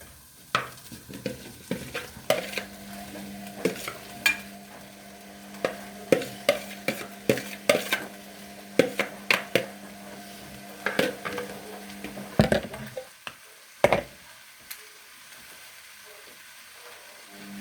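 Carrots and turnips go into a pan beside a turkey roast wrapped in cabbage, with a faint background sizzle, a steady hum and repeated sharp clicks and clatters of stirring utensils against the pan, and no talking.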